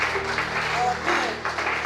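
A church congregation applauds Jesus, a steady wash of clapping that swells and dips slightly, mixed with voices.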